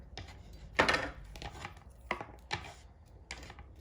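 A knife chops through the top of a bunch of celery on a cutting board while a Cornish hen is prepared, giving a few sharp, close cuts spaced irregularly and then fading.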